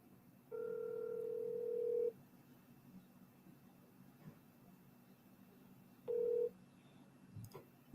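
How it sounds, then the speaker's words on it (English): Two telephone ringback tones while a phone call is being placed: a long buzzing tone of about a second and a half, then a pause with faint room noise, then a second shorter tone. "Let's give you a phone call."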